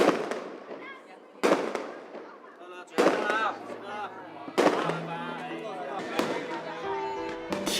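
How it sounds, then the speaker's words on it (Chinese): Strings of firecrackers crackle and pop without pause during Chinese New Year celebrations in Dongguan, Guangdong, with sharp bursts about every one and a half seconds over a dense, distant rattle of smaller bangs. "听着不间断的鞭炮声"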